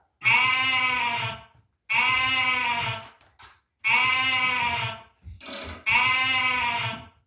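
A goat bleats four times in long, loud, wavering calls with short pauses between, close by and alone.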